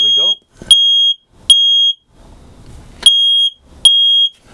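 A caravan smoke or fire alarm undergoing a test sounds four loud, shrill electronic beeps, each lasting about half a second, spaced fairly evenly with short pauses between them and faint handling noise in the gaps.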